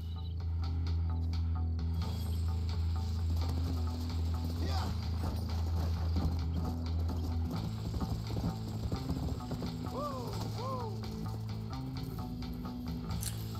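Horse hooves clip-clop in Red Dead Redemption over steady game background sound, with a rider talking throughout and music or ambient tones underneath.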